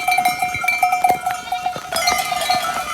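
Sheep on a Turkish farm, with ringing bells and scattered short bleats over a soft outdoor background, close by and without speech.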